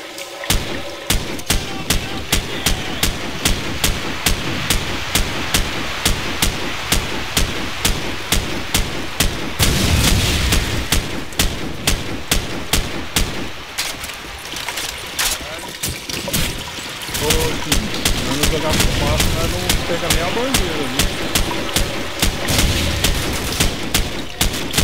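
Rapid, regular gunfire crackles through Call of Duty 4: Modern Warfare, loud and nearly continuous with sharp repeated bursts, while players talk over it.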